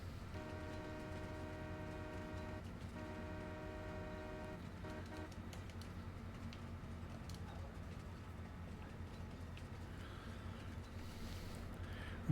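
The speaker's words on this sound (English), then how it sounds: "I've got the train." A train in the video game Farming Simulator 22 sounds a sustained horn tone in two blasts over a steady low rumble, heard at moderate distance with birds cooing faintly.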